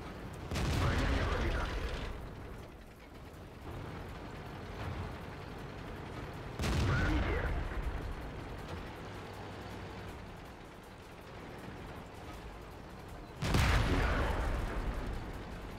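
In the World of Tanks video game, three heavy cannon blasts or shell impacts boom out at spaced intervals over a low, rumbling tank engine drone.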